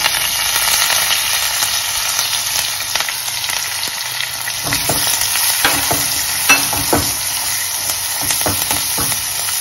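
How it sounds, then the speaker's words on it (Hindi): Fried onions, green chilies and curry leaves sautéed with asafoetida in a pan: loud, steady sizzling and frying with frequent scraping stir strokes, close up and without voices. "और इसे 2 से 3 मिनट तक अच्छे से सौटे करेंगे।"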